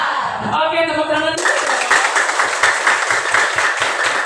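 A school class at SMP Negeri 21 Palembang claps hands together, a dense run of many quick claps at fairly close range that starts just after a short burst of voices.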